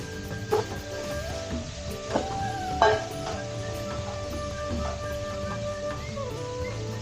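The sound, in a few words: sautéing food in a pan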